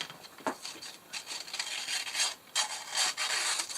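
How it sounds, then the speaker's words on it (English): A strip of gold foil being peeled and torn up by hand for an iris folding paper craft, giving close, dry bursts of crinkling and scraping that come in short uneven pulls, with no talking. "So I'm just stripping up a piece of the gold foil."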